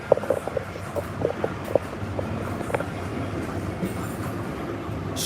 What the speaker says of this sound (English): SkyTrain goes right by this place